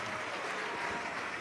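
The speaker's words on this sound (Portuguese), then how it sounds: "E vamos aplaudir ao Senhor Jesus por cada vida que está chegando." A church congregation applauds in a steady, dense wash of many hands, heard at a moderate distance for a brief moment, with no speech over it.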